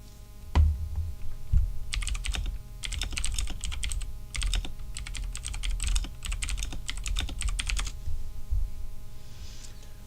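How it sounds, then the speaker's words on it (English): Rapid bursts of typing on a computer keyboard clatter in several quick runs separated by short pauses, with a low hum beneath and no voices. "He's typing to me."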